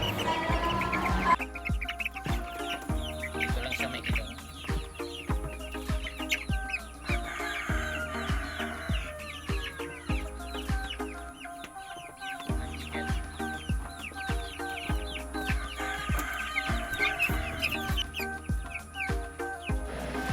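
Rhode Island Red chickens cluck and chatter throughout, with scattered chirps and calls over a continuous low hum, fairly close and busy.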